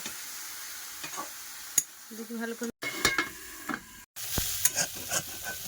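Eggplant fries in a pan with soft sizzling, punctuated by scraping stirs and utensil clinks, while a voice speaks briefly.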